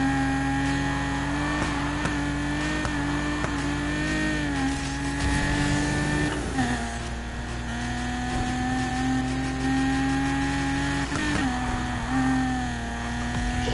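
Car drifting with tire squeal in the Need for Speed racing game: a steady engine drone with rising and falling pitch sweeps through long slides, continuous and fairly loud throughout, with no talk.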